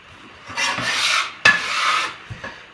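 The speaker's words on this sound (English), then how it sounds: "I'm just scraping away any kind of residue now, which is still quite soft." Egg pasta dough residue scraped off a work surface in two long, close rasping strokes, followed by a soft knock.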